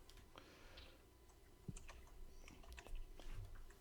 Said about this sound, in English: I hear his computer clicking.